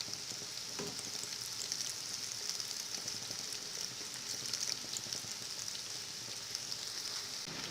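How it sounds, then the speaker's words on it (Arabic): Eggplant sticks coated in flour, egg and breadcrumbs fry in hot oil, giving a steady, soft crackling sizzle with fine popping that continues evenly throughout, fairly quiet and with no voices. "بعد ما خلصت الكمية معايا دلوقتي هقليها في زيت سخن"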